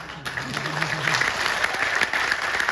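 An audience at a business plan presentation breaks into sustained applause, a full, even wash of many hands clapping. A voice speaks briefly near the start.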